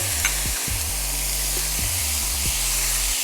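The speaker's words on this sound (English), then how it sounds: "So next is some soy sauce. I'm gonna add some soy sauce here." Fried rice with oxtail sizzles steadily in a hot pan as soy sauce goes in, a continuous close frying hiss broken by a few soft stirring knocks.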